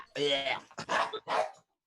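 Excited pet dogs let out three quick, loud barks in a row, close by, in a burst that ends abruptly.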